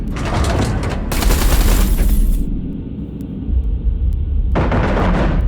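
Heavy artillery fire and explosions rumble through a space battle in the video game Everspace 2, a loud, dense barrage with sharp bursts, a brief lull, then more blasts, with no talking.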